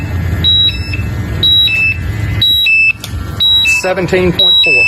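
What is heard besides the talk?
gas monitor alarm going off, hazardous low-oxygen atmosphere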